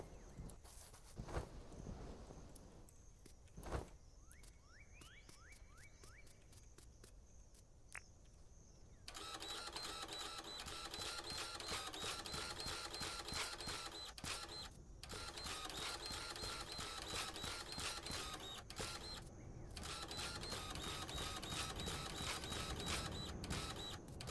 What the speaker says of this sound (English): My kids shudder at the high-pitched sound of the printer.